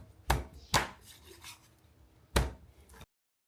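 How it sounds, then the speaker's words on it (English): A knife chopping chicken into small pieces on a cutting board, three close, sharp thuds with a short pause before the last, and faint rubbing between strokes. "we're gonna chop it up in small pieces."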